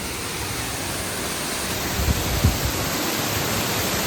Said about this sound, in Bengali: এখান থেকে ছেড়েছে জলটা এইখানে বোঝা যাবে সাউন্ডটা